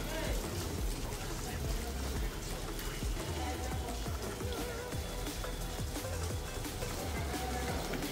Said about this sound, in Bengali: আর বাইরে কনস্ট্যান্ট বৃষ্টি হয়ে যাচ্ছে